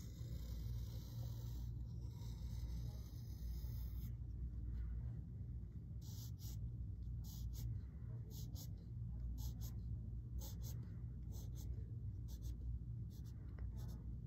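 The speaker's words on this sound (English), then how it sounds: "I'm gonna go in darker with my pencil" A pencil drawing a carrot on paper, with soft repeated scratchy strokes in short bursts over a constant low background rumble, faint and close.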